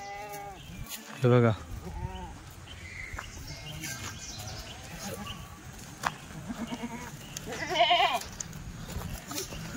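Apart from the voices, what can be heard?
Kathiawadi goats bleating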